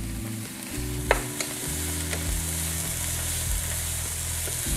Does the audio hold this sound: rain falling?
no